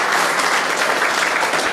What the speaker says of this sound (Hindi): बच्चों, जोरदार तालियां इनके लिए